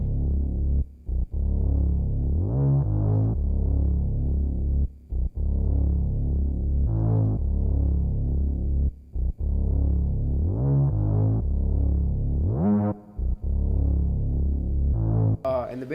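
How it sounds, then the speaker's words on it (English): A loud, buzzy Reese synth bass with a thick, detuned, phasing growl, played as repeated sustained notes with brief gaps between them. "It's just a Reese bass, like the most common synth bass there is."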